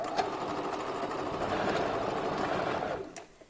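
A sewing machine back-stitches a raw Indian hair 5x5 closure for a bob wig, its motor whirring in a steady close run for about three seconds before stopping abruptly.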